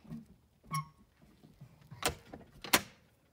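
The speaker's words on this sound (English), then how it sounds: "That door's pretty heavy." A heavy camper door is pushed and swung shut, with a soft knock early on and then two sharp, close latching bangs near the end, each followed by brief rattling.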